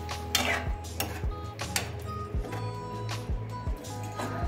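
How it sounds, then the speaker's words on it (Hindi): A prepared snack being stirred into sauce in a pan, with steady clanking and scraping of a spoon against metal in an uneven rhythm, close and continuous, over a low hum and faint sizzle. "अब बढ़िया तरह से मिला देते हैं"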